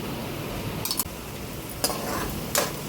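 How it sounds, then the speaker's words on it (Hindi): Ginger-garlic paste frying with onions in a pan over medium flame gives a steady, even sizzle, broken by a few light clinks of a utensil against the pan. "अदरक लहसुन का पेस्ट डालकर इसको भी भूनूंगी प्याज के साथ में"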